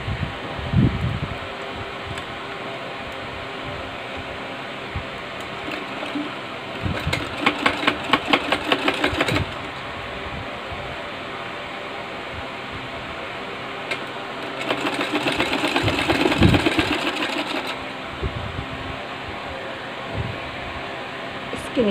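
Electric sewing machine stitching along the neckline of a suit or kurti, steady mechanical whirring with two louder bursts of rapid stitching, close and continuous under a low background hum.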